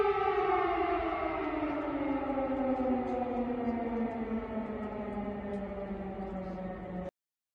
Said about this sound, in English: Air raid sirens sound across Kyiv.